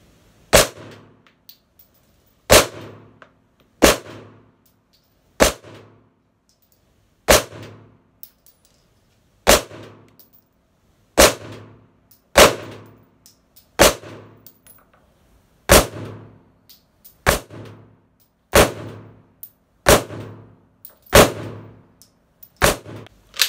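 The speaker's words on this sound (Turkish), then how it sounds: "sesten de duyduğunuz gibi bazı mermiler daha az barut gücü olduğu için daha az ses çıktı" A Girsan MC 9T 9mm pistol fires about fifteen sharp, loud shots in steady succession, each crack trailing a brief echo, with some reports slightly weaker than others and no speech.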